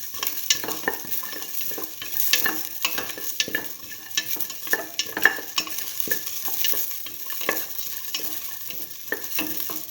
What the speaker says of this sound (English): Put in the green chili. Salt.